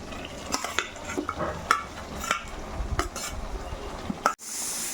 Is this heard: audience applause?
no